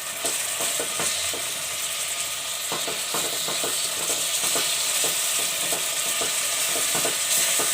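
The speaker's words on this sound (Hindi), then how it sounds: "कीमे को हम हल्का सा भूनेंगे।" Half a kilo of minced meat (keema) fries with garlic for hari mirch keema, a steady loud sizzle broken by repeated scraping stirs of a spoon against the pan, with no talking.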